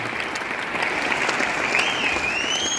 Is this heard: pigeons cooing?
no